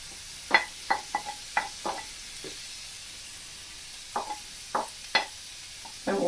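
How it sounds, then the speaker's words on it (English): Cabbage goes into a hot pan with sausage, giving a few sharp sizzling crackles and stirring scrapes, scattered and fairly quiet against a low hiss, with a pause midway before more spits and stirs. "I'm just going to pop the cabbage straight in."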